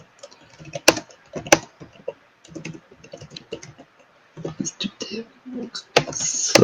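Computer keyboard typing at a developers conference, scattered sharp key clicks in bursts amid live speech and room noise.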